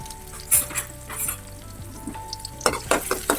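Elephant yam and spices sauté in ghee in a pan, a steady sizzle broken by repeated scraping and stirring clatters of a utensil against the pan, close by and with no voices.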